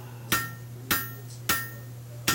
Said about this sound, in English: using half-face blows to my normal forging hammer